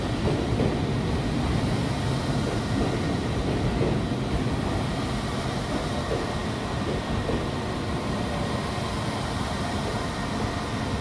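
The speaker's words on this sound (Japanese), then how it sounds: "2番線に当駅始発東北本線回り快速石巻行きが参ります。" A rapid train on the Tohoku Line draws into platform 2 at Sendai station, a steady, dense rumble of rolling wheels and wagons held at a constant level for the whole stretch, with no voices.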